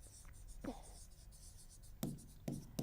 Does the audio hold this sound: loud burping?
no